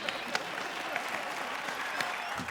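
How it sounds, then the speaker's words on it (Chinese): A studio audience at a variety show claps, a brief, moderate round of applause with scattered sharper claps, heard at a slight distance and fairly quiet. "掌声鼓励一下"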